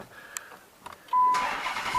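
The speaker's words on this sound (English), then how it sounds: "listen to this big Hemi fire up" A Dodge Challenger's big Hemi V8 is push-button started: a few soft clicks and a chime, then the engine catches with a sudden loud burst and settles into a rumbling idle, close by.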